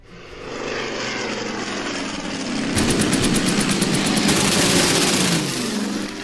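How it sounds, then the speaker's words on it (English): A Focke-Wulf fighter plane in the video game Order of Battle, its propeller engine droning loudly and swelling midway into a fuller roar that holds steady to the end, with no talk over it. "we're going to go for that enemy bomber with our Focke-Wulf"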